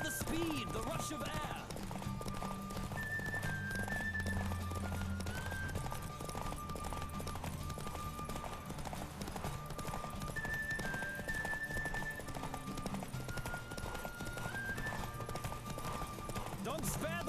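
Rapid, continuous hoofbeats of a horse galloping in a race in The Witcher 3, sustained for the whole stretch beneath game music with occasional voices.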